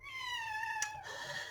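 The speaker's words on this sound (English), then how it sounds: "Can you hear him meowing?" A house cat meows to be let out, a single drawn-out, wavering cry at close range that rises and falls over a steady indoor room hum, with a short sharp click midway.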